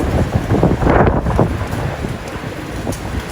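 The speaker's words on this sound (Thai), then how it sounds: "ลมกระชากแรงมากๆต้นมะยมกับต้นกระถิ่นนี่ใบปลิวสวยเลยครับ" Strong, gusty wind of a summer storm buffets the microphone in a Thai backyard and lashes star gooseberry and leucaena trees, a loud roaring rush that surges and eases with no voices.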